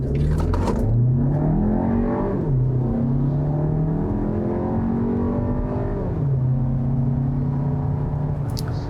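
A 2020 Volkswagen Tiguan R-Line accelerates on a rainy day, its engine note climbing steadily through the gears with clear upshift drops, loud and continuous from inside the cabin with no talking.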